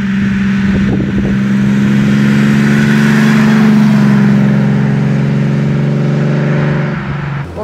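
A 1936 Alvis Silver Eagle with a supercharged 4.3-litre inline six-cylinder engine drives by, its loud, steady engine drone close and continuous, rising slightly and then easing off near the end.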